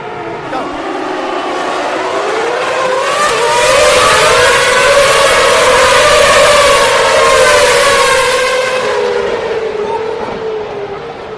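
Formula One cars launching off the starting grid at a race start, a massed roar of high-revving engines that swells and holds loudly for several seconds, heard from a distance as one continuous blaring wall of sound.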